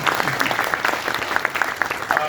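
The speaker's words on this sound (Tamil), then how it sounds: "அப்படி இன்னும் நல்லா கைதட்டுங்க சார்" A short burst of audience applause, many hands clapping steadily and fairly close, with a bit of voice mixed in.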